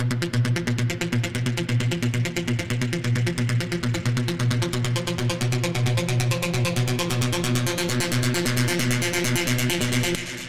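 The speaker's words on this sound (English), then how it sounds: "Today I'm gonna show you how to make a hypnotic techno synth like this." A hypnotic techno synth patch built in Ableton's Wavetable plays alone as a dense, buzzing, rapidly pulsing tone over a steady low drone, loud and unbroken for about ten seconds.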